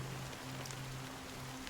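Steady rain falls and patters in Honkai Star Rail, a soft continuous hiss of drops on surfaces with a faint low tone beneath and no voices.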